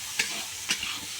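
Onion and chili frying in oil in a pan after fish, a steady close sizzle marked by two distinct stirring scrapes.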